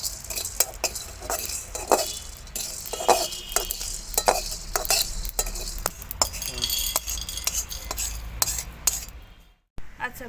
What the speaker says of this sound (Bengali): তো এগুলোকে আমি শুকনো কড়াইয়ে আগে আমি ভালো করে ভেজে নেব